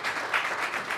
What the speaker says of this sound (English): Give Carolyn a round of applause.